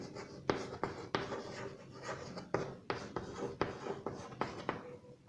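Chalk or a marker writes on a board during a physics lesson on the magnetic field of a current-carrying cylindrical wire, giving a series of close, distinct taps and scratchy strokes in an uneven rhythm, no talking.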